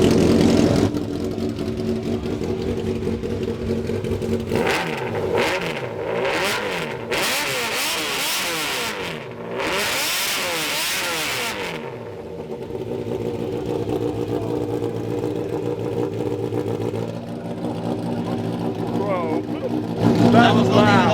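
Motorcycle-engined kei van revving hard: the engine climbs repeatedly from a steady idle to high, screaming RPM in rising and falling sweeps, close and loud, with people chatting before and after the revs.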